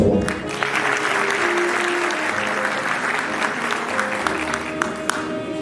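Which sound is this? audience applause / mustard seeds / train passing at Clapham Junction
audience applause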